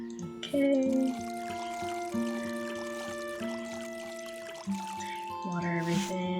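Watering can pouring over garden plants in the video game Witchy Life Story, a few short splashy pours rising over bright, steady background music.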